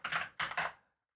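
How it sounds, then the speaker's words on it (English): A computer keyboard gets three quick keystroke clatters in close succession, then falls silent, close and fairly faint. "let me just type in this redirection entry"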